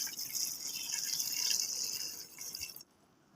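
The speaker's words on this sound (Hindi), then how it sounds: "इसके साथ ही हम इसमें डाल देंगे पानी।" Water pours into a cooking pot of chicken feet with garlic, making a steady hissing splash that swells gently and then cuts off abruptly just before the end, with no talking.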